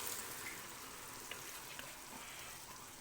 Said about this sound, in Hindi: इसको अब हम उसके अंदर पलट देते हैं, चाशनी डाल के इसको जल्दी से मिक्स करेंगे सारों को।